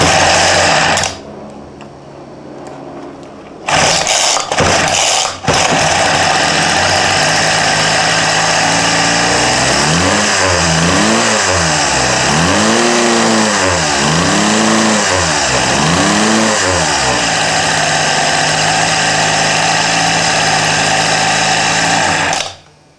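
A 25cc motorized bike engine starts, idles with a buzzing rattle and revs up and down repeatedly in several rising-falling bursts, close and loud throughout.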